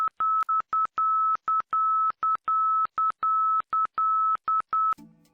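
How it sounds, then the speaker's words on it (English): An aircraft ILS marker beacon tone: a steady high-pitched tone pulses in a rapid pattern of short dots and longer dashes, loud and clean, ending with a brief burst of static. "This marker's audio signal is a series of alternating Morse code dots and dashes at a high tone."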